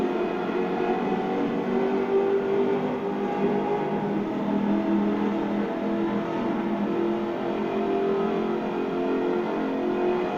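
Supercharged 5-litre V8 with an aluminium body in Forza Horizon 4 gives a steady, loud, continuous engine roar that holds a constant pitch throughout, with no talking.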